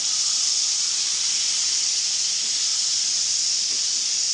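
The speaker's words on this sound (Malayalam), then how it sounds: "മസാല ദേ മൂത്ത് റെഡി ആയിട്ടുണ്ട് അതിലേക്ക് നമ്മൾ മട്ടൺ ഇട്ട് കൊടുക്കുകയാണ്" Mutton dropped into hot, well-fried masala in a pan for a home-style curry, a loud, steady close sizzle and hiss that runs unbroken, with no talking.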